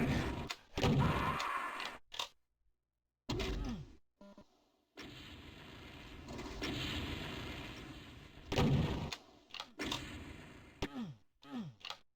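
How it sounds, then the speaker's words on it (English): Shotgun blasts in the shooter game Doom II during a duel, a few loud bursts separated by short silences with echoing tails. "Good return shotgun there."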